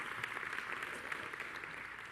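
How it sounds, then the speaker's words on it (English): Audience applause at a church-focused talk on digital giving, steady dense clapping heard from a distance, fairly faint and continuous with no voices over it. "give Michael a big round of applause"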